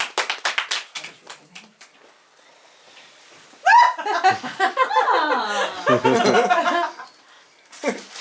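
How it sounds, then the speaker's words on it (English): An audience bursts into clapping with whoops, cheers and laughter after a stage performance. A voice speaks briefly before it, and the crowd noise swells loud for about three seconds before fading back to a single voice. "Oh, applause!"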